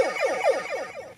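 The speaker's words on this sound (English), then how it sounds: "So the sound you're hearing when you turn it off is the Mega Man death sound effect." A ThinkGeek Mega Buster replica toy gives off the Mega Man death effect when switched off. It is a quick series of descending electronic chirps in an even rhythm, close and clear, about a second long, with no talking.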